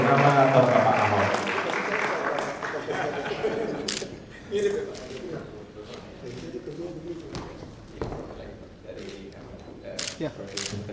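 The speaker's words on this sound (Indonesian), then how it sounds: "Bisa berikan tepuk tangan sekali lagi pada Bapak Basuki Cahayapurnama" Audience applause at an annual networking event in Jakarta after a talk by Basuki Tjahaja Purnama, moderately loud clapping that fades into scattered claps and light chuckles, with a voice speaking over it.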